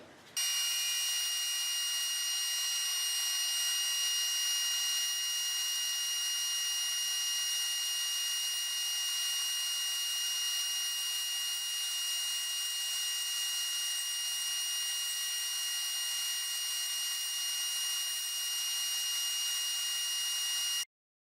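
Band saw with a slicing accessory ripping thin strips from a long poplar board, a steady high-pitched whining hiss with ringing tones that starts abruptly and holds evenly for about twenty seconds before cutting off.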